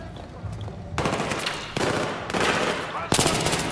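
Sustained machine gun fire in the Battlefield 3 campaign, dense rapid bursts that swell louder in several waves, with no voices over it.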